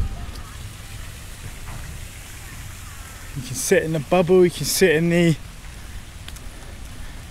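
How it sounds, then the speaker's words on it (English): Rain falls steadily during a thunderstorm, a constant hiss that runs through the whole clip while someone talks close by in the middle. "Get out of the rain for a minute."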